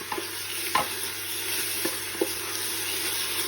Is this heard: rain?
no